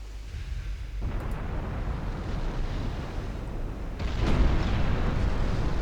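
Shells strike a battleship in a naval warfare strategy game, heard as a continuous deep rumbling roar of explosions that swells louder near the end, with no talk over it.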